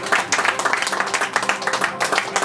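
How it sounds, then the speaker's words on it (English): A quiz-night audience applauds a contestant with dense, steady clapping that fills the room at moderate loudness. "Give him a round of applause"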